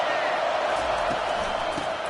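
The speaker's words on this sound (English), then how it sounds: "this crowd is turning it up a notch." A college football video game stadium crowd roars in a steady, broad wash of cheering noise, loud and unbroken, with faint thuds underneath.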